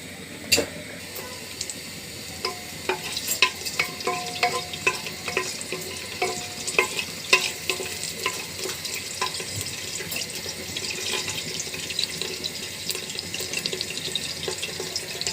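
Whole spices, bay leaf and garam masala, frying in oil in a wok, giving a light continuous sizzle with scattered crackles and clinks of utensils, fairly close and steady throughout.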